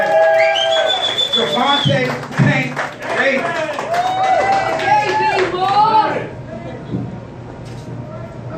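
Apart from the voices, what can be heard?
audience applause at press conference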